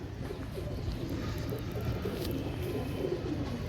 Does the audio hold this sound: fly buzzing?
no